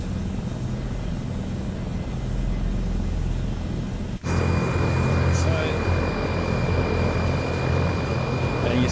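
Aircraft engine spooling up inside a flight simulation game, a steady broadband roar that briefly dips, then returns louder with a faint high whine as the right side starts.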